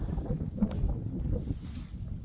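Wind gusts through a garden where tomato plants are tucked along a fence, a steady low rumbling buffet with soft fluctuations and no voices.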